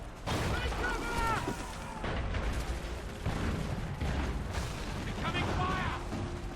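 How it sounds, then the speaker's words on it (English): Cannon and musket fire from a naval or battlefield scene in Assassin's Creed 3, with heavy booms and crackling volleys rolling continuously, loud and dense, while voices shout over the bombardment. "They're firing! Incoming!"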